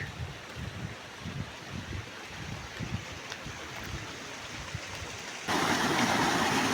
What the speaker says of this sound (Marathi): हा बघा अजून एक धबधबा मधलेवाडीत येऊन पोचलेले